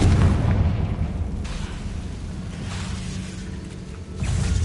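Explosions from the Confringo spell in a Harry Potter game: deep rumbling booms, loud at the start, easing into a steady low roar, then swelling again at the end.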